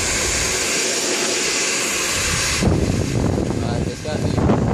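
A Babyliss Pro Rapido Ferrari hair dryer running close by, a steady loud airy roar of motor and fan that shifts to a slightly different pitch partway through, with no talk.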